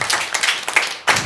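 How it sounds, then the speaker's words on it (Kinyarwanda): Children at a school, Ecole d'Artois, break into a burst of dense, close applause that runs steadily, then briefly thins before a fresh loud wave of clapping. "Ako kantu nako ni mugaha amashyi."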